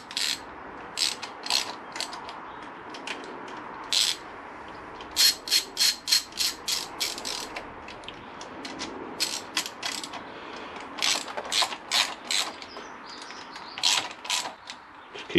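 A hand ratchet snugs down the valve cover bolts on a Honda VFR800 VTEC motorcycle engine, giving off close, crisp bursts of clicking that stop and start in short runs, with no talk.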